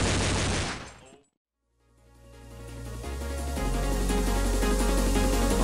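Dense, loud Counter-Strike gunfire and explosive game action fill the clip, cutting out briefly to near silence before surging back as a sustained, heavy barrage.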